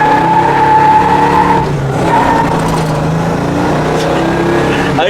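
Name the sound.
1965 Chevelle SS braking hard, tires squealing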